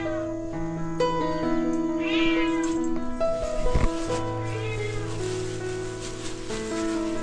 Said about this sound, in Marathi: किती मांजरं आहेत तशी?